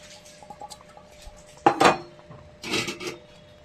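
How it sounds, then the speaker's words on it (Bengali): Lentil fritters (bora) dropped one after another into a pot of boiling curry broth, giving two short splashing clatters close by with faint kitchen clinks between them. "ঝোল আমার ফুটে গেছে। এবার আমি একে একে বড়াগুলো এর মধ্যে দিয়ে দেবো।"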